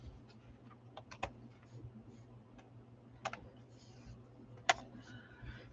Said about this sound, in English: I'm going to trim off some of my stems.